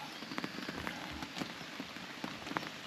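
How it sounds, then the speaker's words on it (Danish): Heavy morning rain patters steadily on surfaces outdoors at a cup event in Pedersborg, a dense, even hiss with scattered louder drops and no talking. "Igen, her til morgen er begyndt at være pissehamrende regn."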